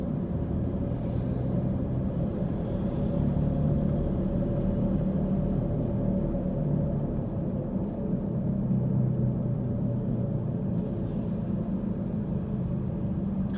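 A car cruises Interstate 40 from West Knoxville toward downtown in afternoon traffic, its steady engine and road rumble filling the cabin continuously with no talk.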